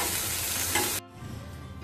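Loud, dense sizzle of frying in a pan while koraishuti kachori filling is prepared, then an abrupt drop after about a second to a quieter, crackling simmer.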